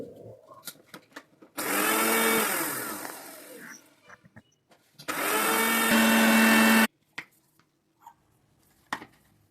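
Dried fenugreek seeds whir in a mixer grinder in two loud, steady bursts of a few seconds each, separated by a pause, with quiet clicks and handling noises around them.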